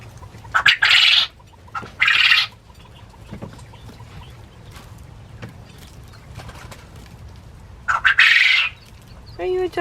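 Several short bursts of soft, chattering calls from a rooster summoning hens, heard up close with quiet gaps between them and faint murmuring in the background.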